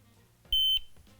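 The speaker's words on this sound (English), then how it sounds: "The entire LCD display lights up, the LEDs flash, the buzzer sounds and the motor vibrates" A Riken Keiki GX-3R Pro gas detector gives a single short, piercing startup buzzer beep at power-on, a steady tone lasting about a quarter second, close and clear over a faint hum.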